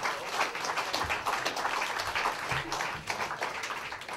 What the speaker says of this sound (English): Nice round of applause for everybody.